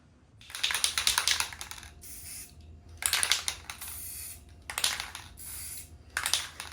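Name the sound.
spray paint can spraying a pumpkin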